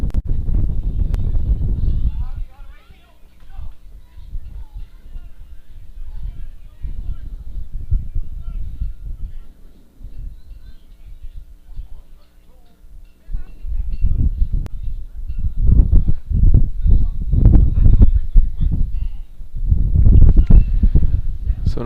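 Gusts of wind sweep across a softball field, buffeting the microphone in heavy low rumbling bursts at the start and again in the second half, with quieter rustling between.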